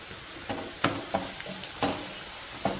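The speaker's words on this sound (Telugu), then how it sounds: "ఇప్పుడు మనం ఒక్కసారి ఫ్రై చూద్దాం" Faint, steady sizzling of chicken frying in a pan, punctuated by several sharp scrapes and taps of stirring.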